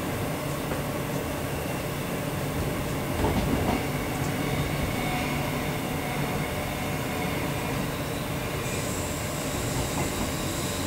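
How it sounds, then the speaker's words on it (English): Queensland Rail 000 series electric multiple unit running between Wooloowin and Eagle Junction: steady interior rumble of the train in motion, with wheel clatter, occasional squeals and a faint high tone late on, heard alone without talk. "This is a Shorncliffe train,"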